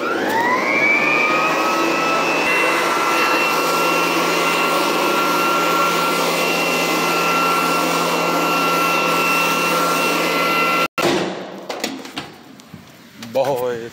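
A loud, steady vacuum cleaner drones close by for about eleven seconds, then cuts off abruptly, leaving scattered handling noises.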